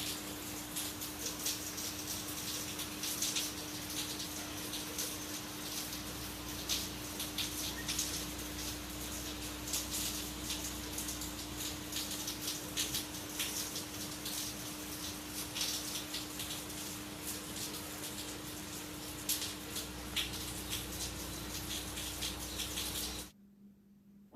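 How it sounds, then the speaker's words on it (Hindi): Steady rain falls outside, a continuous hiss of drops with scattered louder patters and a constant low hum beneath, running without pause before cutting off at the end. "इसकी कुदरत की जो आवाज़ है ना, बारिश की, ये इंजॉय करें"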